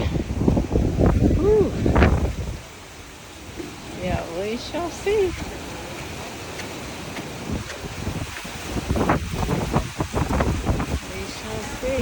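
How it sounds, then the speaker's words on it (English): Strong wind buffets the microphone on a beach beside houses with picket fences, roaring in heavy gusts with a lull in the middle, while a person exhales and speaks briefly. "it is very windy"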